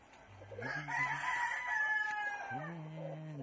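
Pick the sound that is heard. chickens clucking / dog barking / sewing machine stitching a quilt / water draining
chickens clucking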